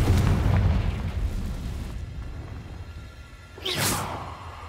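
Confringo blasting spell going off in Hogwarts Legacy, a loud rumbling boom that decays over a couple of seconds, followed by a bright whooshing burst near the end.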